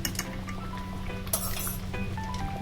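A spoon stirs dal with a little ghee in a cooking pot, making scattered metallic clinks and scrapes nearby, with a faint sizzle underneath and no talking.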